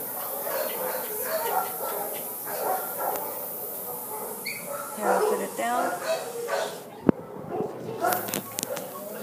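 A person talks over soft dog whimpers and yips nearby, followed by a sharp knock and a few brief sounds near the end.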